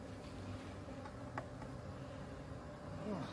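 A spring swarm of honeybees, just shut into a box, makes a faint, continuous buzzing hum in the background, with a few brief individual bee passes drifting close by.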